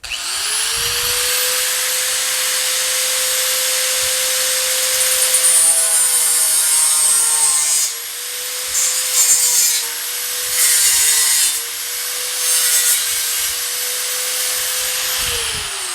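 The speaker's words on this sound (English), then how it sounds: "I got to get a cutoff wheel in there." A cutoff wheel grinds a pin off car sheet metal during GTO filler panel prep, a loud, steady high whine held for the whole stretch, wavering briefly as the cut bites in.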